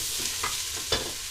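Vegetable and bean soup base crackles and sizzles in a pan as a large spoon stirs it, with two or three scraping strokes over a steady frying hiss; close, brief, no talking.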